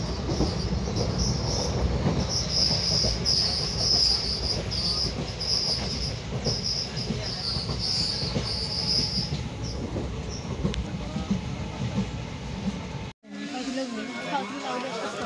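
Steady rumble and clatter of a moving train from inside a carriage, on the Kumarghat to Agartala route, with a high whine running through most of it and a brief cutoff near the end.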